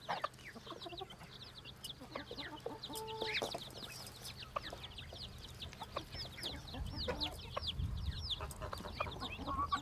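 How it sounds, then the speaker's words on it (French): A bantam hen clucks softly amid a busy chorus of high peeping chicks with speckled down, with other birds chirping in the background. "Celle-ci est une poule naine dont les poussins ont un duvet tacheté."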